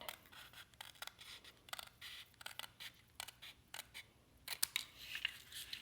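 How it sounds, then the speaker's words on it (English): Scissors snip paper into a snowflake rosette ornament in a quick run of close, crisp cuts with short pauses, ending in a few sharper clicks, with no talking. "So I'm going to cut off almost the whole of this end, but not quite."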